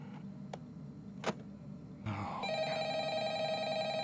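In the video game Ultimate Custom Night, a few sharp clicks come first, then a telephone starts ringing loudly with a steady, buzzing electronic ring that continues to the end.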